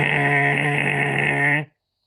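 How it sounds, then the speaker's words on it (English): A loud, sustained buzzer tone from the WWE SuperCard video game, signalling a Royal Rumble entrant, holds steady for about a second and a half before cutting off abruptly into silence. "That's the sound of the buzzer"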